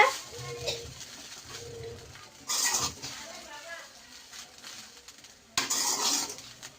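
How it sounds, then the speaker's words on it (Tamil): A spoon scrapes and clatters against a pan while chicken rice with pepper is stirred, two loud metallic bursts separated by quieter stretches, with faint talking in the background. "இப்போ நல்லா கிண்டிட்டுக்கலாம்."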